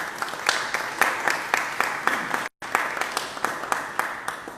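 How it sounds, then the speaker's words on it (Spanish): Listeners applaud Doctor Henry Idrobo Quintero after his medical talk on thrombocytopenia, a steady room-wide clapping with a momentary cut in the middle, moderately loud and close. "Doctor Hidro, muchas gracias. Un aplauso."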